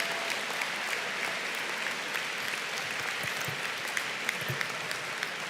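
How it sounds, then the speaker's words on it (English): Sustained applause fills a commencement ceremony at a law school, a steady dense crackle of many hands clapping at moderate distance throughout, with no speech over it. "You got a lot of applause there."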